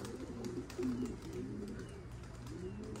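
Pigeons coo close by, low soft throaty calls repeating over a faint steady background hum, with one fuller coo standing out partway through.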